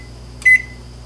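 A microwave oven gives a short electronic beep tone, close and clear, as it is set for ten seconds to soften covered bread, over a faint steady background hum.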